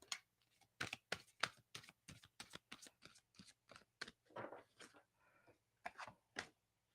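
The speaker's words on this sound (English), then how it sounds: "let's just shuffle it like this" Tarot cards are shuffled in a series of quick, crisp riffling bursts, close and quiet, each burst a short papery flutter with brief pauses between.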